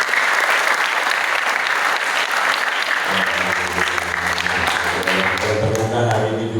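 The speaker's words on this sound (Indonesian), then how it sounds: "Tepuk tangan buat beliau semuanya." Dense, loud applause from an audience at a gathering at Pondok Pesantren Darurrohmah in Cirebon, a crowd clapping steadily throughout, with a voice rising over the clapping in the second half.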